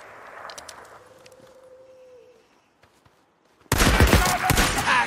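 Loud, dense burst of gunfire in the video game Days Gone, a rapid volley erupting suddenly after a quieter stretch and continuing to the end.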